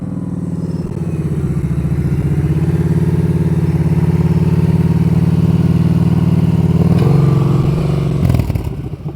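A motorcycle engine idles and putters steadily at low speed throughout slow-speed riding practice, with a brief rev and rise near the end as the bike eases forward; no talking.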